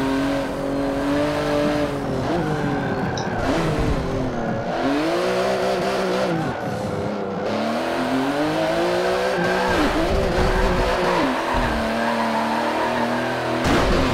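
Race car spinning out in Forza Motorsport 7, engine revving up and down in sweeping pitch swings with tyre squeal, loud and close, no talking.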